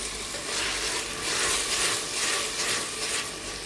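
Steady frying sizzle of onion and ginger-garlic paste in a pan, a dense hiss that holds at a moderate level throughout, with faint scraping now and then and no voices.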